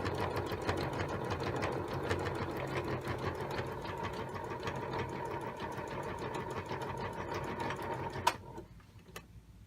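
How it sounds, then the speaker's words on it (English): An old electric sewing machine runs fast with a steady, groaning mechanical whir and rapid needle ticking, loud and close, before stopping abruptly near the end. "My machine is groaning a little bit because it's old and I'm going a little too fast."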